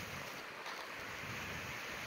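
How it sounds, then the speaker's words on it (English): Steady rushing water with a broad hiss, like a flowing creek, continuous and even, heard alone without voices. "With the creek running down there."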